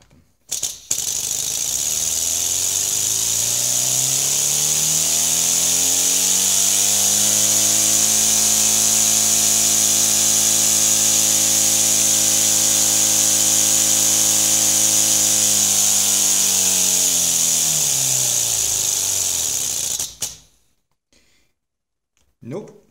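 A small inline four-cylinder engine runs at about 3200 RPM, a loud, steady, close buzzing drone held for around twenty seconds before it cuts off.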